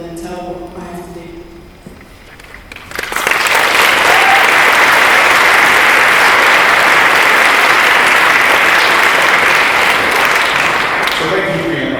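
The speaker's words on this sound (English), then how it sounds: "thank you for giving a round of applause to Emma and Danny" A conference audience breaks into a sustained round of applause for Emma and Danny, loud and steady after a quieter opening with a voice, continuing for about nine seconds before easing.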